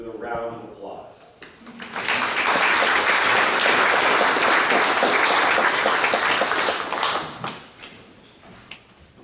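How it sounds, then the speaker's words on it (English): An audience in a church in Coventry bursts into sustained, loud applause that swells after a brief pause, holds steadily for several seconds, then tapers off into scattered claps. "Let us all welcome her with a round of applause"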